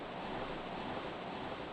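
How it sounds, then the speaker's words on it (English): Waterfall in the Japanese version of the video game King's Field II, a steady, unbroken rush of falling water that holds an even, hissing roar throughout with no voices. "Yeah, sound of water."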